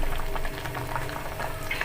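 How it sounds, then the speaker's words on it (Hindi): Herbal kadha simmering in a pot on a low flame, a steady close bubbling and hissing boil that runs continuously with no talking over it. "इसे तब तक उबालना है धीमी आंच पे"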